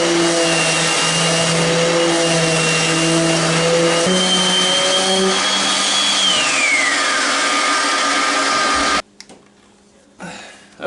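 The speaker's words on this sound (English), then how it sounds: "So if I can use this sander and get the job done" A power sander grinds steadily on glassed-in fiberglass boat stringers, a loud continuous whirring drone with a shifting pitch that runs for about nine seconds before cutting off, leaving quiet shop noise.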